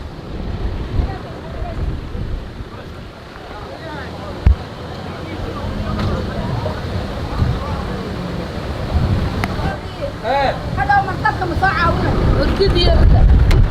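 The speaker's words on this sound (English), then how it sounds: "It's quite windy" Steady wind rumble and buffeting across the microphone on a beach in Somalia, with people talking over it throughout.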